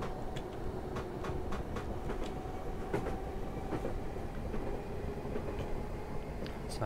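A train runs on the Suburban Glasgow Northwest line in Train Simulator 2021, giving a steady low rumble with faint, regular rail clicks at moderate speed, heard alone without talking.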